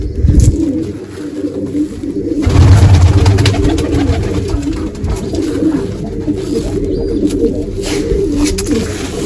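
Domestic pigeons cooing close by in a home loft, repeated soft throaty coos layered over one another with rustling and scattered clatter throughout.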